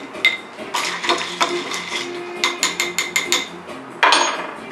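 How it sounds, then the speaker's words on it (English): Orange cocktails stirred with ice in glasses, giving bright clinking and rattling of cubes against glass in quick irregular bursts, close and fairly loud, with a sharper clatter near the end. "We're gonna let our beautiful little orange-sickle drinks take a nice stir with their ice."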